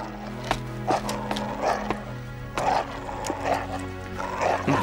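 Dogs in an animated Cinderella episode, a series of short barks and woofs repeated at irregular intervals with soft thumping steps beneath, moderately close, no talking.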